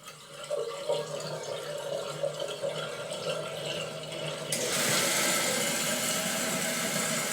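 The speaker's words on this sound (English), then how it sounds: "I'll then pull the lever up and let water go through just enough until the fill valve begins to kick back on." A toilet fill valve refills with running water, a steady hiss and trickle that swells into a louder, brighter rush partway through as the valve kicks back on, heard up close with no talking.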